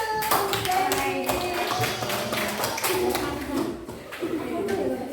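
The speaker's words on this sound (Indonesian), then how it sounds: "Kasih tepuk tangan dulu." Children in a classroom during a maths lesson clap their hands in applause, a dense, steady patter of many hands that continues throughout, with voices mixed in.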